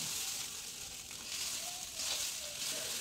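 Leftover rice with cabbage frying in a pan gives a steady hissing sizzle, close and moderately loud, swelling slightly at moments, with no speech over it.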